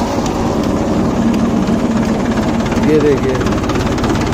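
A Mahindra 265 DI tractor's diesel engine running close by, a loud steady low throbbing chug throughout, with someone speaking briefly over it.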